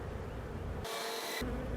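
Honeybees buzzing at an open beehive while a colony is reduced down to a nucleus hive, a dense continuous drone close by with a brief shift in tone midway, no talking.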